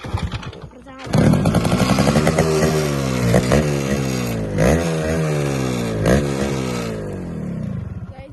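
Motorcycle engine cranked and started with the choke on, catching after about a second into a steady, loud idle whose pitch rises and dips with brief revs; no talk over it.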